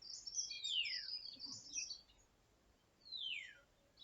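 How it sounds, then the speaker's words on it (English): Several birds chirp and trill in a garden, bright descending calls repeating in two clear bursts over a quiet outdoor background, with no talking. "I swear there's more birds"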